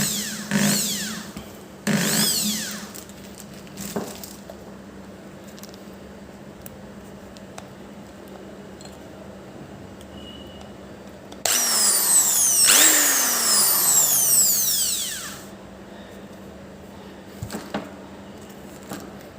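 A home-use powered drilling machine runs in short bursts with rising and falling whines as it spins up and winds down, one longer loud run in the middle, separated by quieter stretches of low hum.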